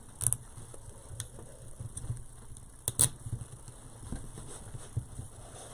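A plastic zip tie ratchets as it is cinched lightly around ribbon while tying a bow on a bow-making jig, giving a few brief, quiet clicking bursts over soft handling noise, with no voices.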